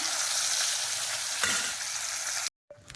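Fish sizzles and crackles steadily in hot oil in a wok, a loud continuous hiss with a brief stir around the middle, cutting off abruptly near the end.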